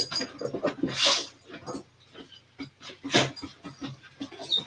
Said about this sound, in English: Okay, so our other dog is here. She's a Catahoula leopard dog.